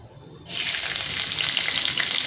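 Garlic dropped into hot oil already crackling with cumin and mustard seeds bursts into a loud, steady sizzle that carries on close up after a quieter start.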